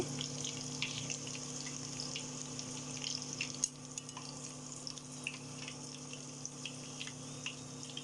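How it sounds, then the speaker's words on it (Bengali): Bread-coated chicken balls fry in hot oil, giving a quiet, steady sizzle with faint bubbling crackles, and no talk. "আমি এক এক করে আরও ভেজে নিচ্ছি"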